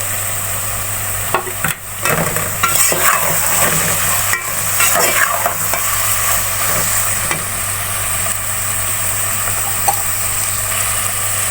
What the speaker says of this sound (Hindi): अब प्याज को थोड़ी देर भून लेंगे। एक मैंने टमाटर लिया, ये शामिल कर लेंगे।